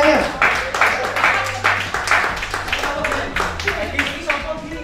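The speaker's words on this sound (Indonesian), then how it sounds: "kita kasih tepuk tangannya" Clapping from a gathering at a handover ceremony honoring a priest at a mission museum, a steady mix of hand claps over several seconds with talk and background voices mixed in.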